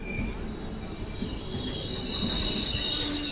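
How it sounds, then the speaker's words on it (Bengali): A local train rolls along steadily, with a continuous rumble of wheels on rails and a thin metallic squeal on top, moderately loud and even throughout, with no voices. "শিয়ালদা থেকে হাওড়া ফিরছিলাম লোকাল ট্রেনে, একা।"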